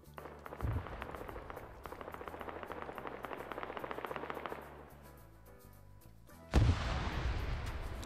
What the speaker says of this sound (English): Samuel taking some Grenadier fire.